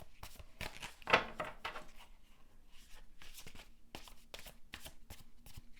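Tarot cards being shuffled by hand during a love reading, a soft continuous riffling and flicking of the deck with one sharper snap of cards early on, close and quiet.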